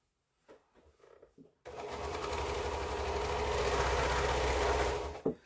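A sewing machine stitches a quilt strip, starting after a few soft handling noises and running as a steady, loud continuous whir for about four seconds before stopping abruptly, with no talking.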